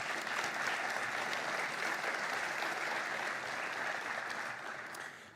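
An audience at a tech conference opening applauds steadily, dense clapping at a fairly even level that fades slightly at the end.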